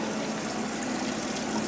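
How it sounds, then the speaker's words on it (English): Lukewarm water poured steadily over rice, a continuous close rushing and splashing that fills the whole short stretch with no voices. "Now we want somewhat lukewarm water,"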